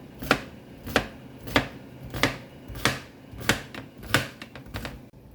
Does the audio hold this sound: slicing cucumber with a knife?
yes